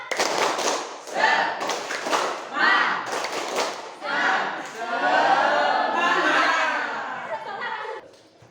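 Classroom of students doing a rhythmic spirit clap, bursts of claps in patterned groups mixed with children's voices chanting along, fairly close and lively.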